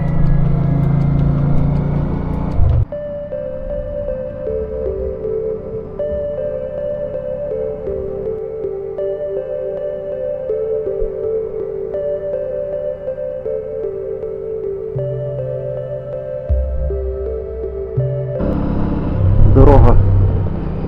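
A 1986 Honda Shadow motorcycle rides along newly paved asphalt through the Carpathian mountains. The engine drone is loud and steady, rising and falling gently with throttle changes, mixed with wind rush and a louder surge near the end.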